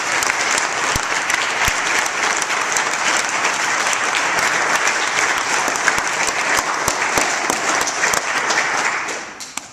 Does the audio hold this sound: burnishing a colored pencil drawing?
no